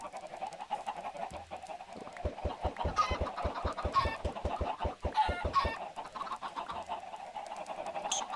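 Chickens in the video game Minecraft cluck in a quick run of short, evenly spaced calls, a flock of small clucks bunched together at moderate volume.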